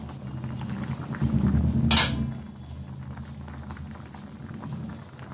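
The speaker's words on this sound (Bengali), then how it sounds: "কিছুক্ষণ পর আমি ঢাকনাটা খুলে দিচ্ছি।" A lid is lifted off a pot of simmering banana-flower fritter curry, a brief metallic clatter over a steady low bubbling boil.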